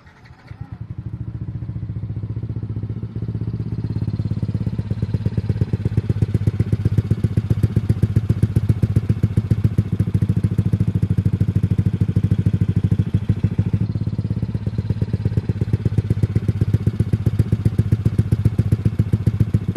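A modified Yamaha NMax scooter engine cranks and fires up, then settles into a steady, rapid putter that runs loud and unbroken with a slight dip midway, with no speech over it.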